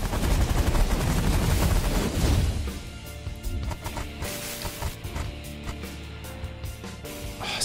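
Weapons fire strikes a GPS satellite in The Last Federation, a space strategy video game: a dense, loud barrage of gunfire and explosions for the first few seconds, then settling into lighter continuing shots over game music.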